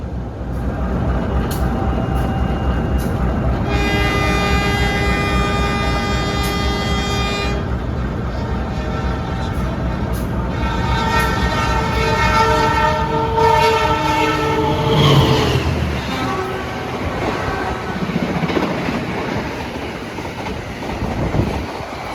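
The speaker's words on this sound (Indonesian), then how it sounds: "Lokomotifnya pakai lokomotif vintage ternyata. CC201 berapa tadi?" An economy-class KA Kahuripan passenger train hauled by a vintage CC201 diesel locomotive, heard up close. The horn blows in long sustained blasts over the rolling rumble and clatter of the wheels on the rails.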